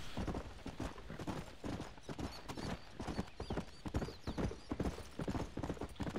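Horse hooves clip-clopping in a steady riding rhythm through desert cactus in the video game Red Dead Redemption, close and moderately quiet, with a brief whinny.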